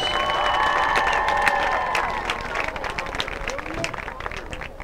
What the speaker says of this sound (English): one last big round of applause for all of your North Quincy High School